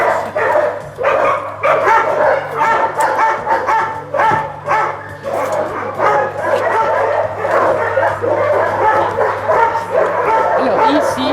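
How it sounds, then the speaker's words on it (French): Many dogs at an animal shelter, some fearful and some very old, bark, yip and whimper nearby in a steady, overlapping chorus while people talk through it. "ici, c'est des chiens, ou des chiens un peu craintifs, ou des très vieux chiens"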